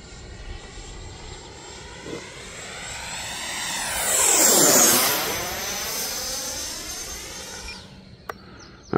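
Freewing J10A 90mm electric ducted-fan RC jet making a flyby, a high whine rising to a loud rushing pass overhead with a clear Doppler sweep, then fading away.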